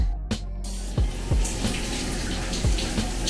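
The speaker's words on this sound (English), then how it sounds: "They've even got the showers in here, rainfall, and these little side jets." A rainfall shower with side jets runs in a Qatar Airways business class lounge, a steady close hiss of spraying water with a few soft thumps and drips along the way.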